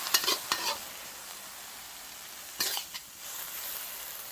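Fried pork is stir-fried with chili and salt on a gas stove: short bursts of sizzling and tossing open and close the stretch, with quieter hiss between them and no talk.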